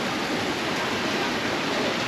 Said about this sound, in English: here you have the waterfall